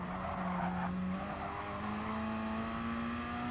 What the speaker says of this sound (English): Braking once again down to turn 1.